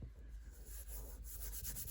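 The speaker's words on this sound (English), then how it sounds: "And then burnish that down." Paper being burnished down by hand onto a junk journal page, a steady close dry rubbing that keeps up throughout with slight rhythmic strokes.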